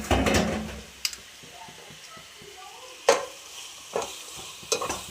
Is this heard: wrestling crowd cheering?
no